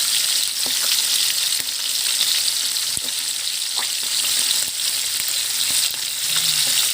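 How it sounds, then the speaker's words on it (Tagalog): Bilong-bilong fish fries in a pan with a loud, steady, close crackling sizzle and occasional sharp pops throughout. "Ito, piniprito ko. Isda."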